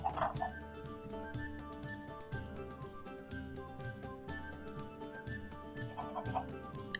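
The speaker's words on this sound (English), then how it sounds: "I finally found 2 chickens and was able to lure them over into my chicken coop" Chickens in Minecraft cluck in short, repeated bursts over a steady background music bed, soft and at moderate distance with no talking.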